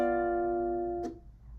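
A single slow mandolin blues strum rings out with sustained chord tones, then is damped abruptly, leaving a brief scrape and near silence.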